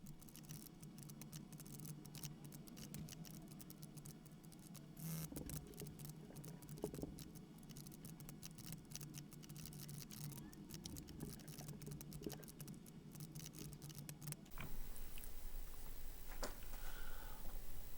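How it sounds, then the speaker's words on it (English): Keys tapping on a Tandy Color Computer 3 keyboard in a steady, busy patter of quiet clicks, ending in a louder burst of clatter near the end. "we're going to be typing it in on my Tandy Color Computer 3."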